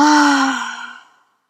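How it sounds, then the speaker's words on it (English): A single deep exhale through an open mouth during a beginner yoga breathing cue, a loud breathy sigh that starts strong and fades out over about a second, heard alone. "Inhale deeply, filling up your lungs with joy, with love, with light. Open mouth, exhale."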